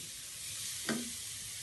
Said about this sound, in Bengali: আমার গাজরটা ভাজা হয়ে গেছে